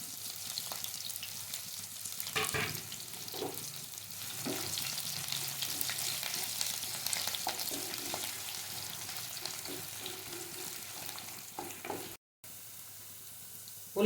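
Onions with green chillies and ginger-garlic paste fry in a hot pan, giving a continuous soft sizzle with occasional stirring scrapes and clinks, fairly quiet and without talk.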